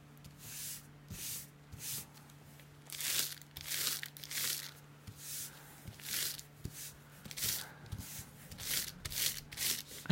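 Crinkled parchment paper rubs and rustles in soft, repeated strokes, close and quiet, with a faint steady hum underneath.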